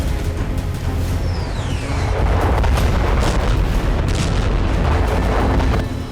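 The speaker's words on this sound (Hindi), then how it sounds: "रूस ने यूक्रेन की पोर्ट सिटी ओडेसा पर भी बमबारी तेज कर दी है।" Bombing on the port of Odessa during a missile attack: loud, sustained rumbling blasts and booming impacts fill the whole stretch, dense and continuous with no voices heard.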